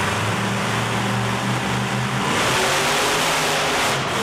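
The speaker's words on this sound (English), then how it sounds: "you could see the power as they left the starting line. Both trucks throttle down, just giving it everything a truck's got." Monster trucks at the ActionTracks Toughest Monster Truck Tour in Saginaw, MI, blasting off the starting line with loud, sustained engine roar and rising revs, dense and continuous with a brief swell near the end.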